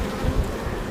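Honeybees swarm thickly around an opened hive box during a spring inspection, a loud, dense, continuous buzz close at hand with no voices over it.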